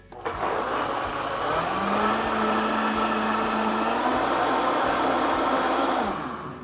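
An electric appliance blends batter made with sour cream and salt, giving a loud, steady motor whir up close for about six seconds that starts and stops abruptly.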